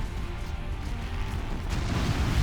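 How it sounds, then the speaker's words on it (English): A fuel air bomb detonates in a real-time strategy video game, a deep rumbling blast that swells and rolls on continuously without pause, loud and broad. "Big explosion catches everything as Marakar starts another building somewhere else"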